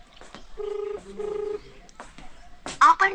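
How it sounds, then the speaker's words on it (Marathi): Phone call tones sound while a call goes unanswered: two clear, sustained ringback beeps, followed by a short burst of louder tones, with brief speech also present. "फोन काय उचला नाही"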